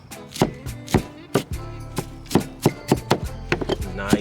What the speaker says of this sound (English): Bring them together, keep chopping it up.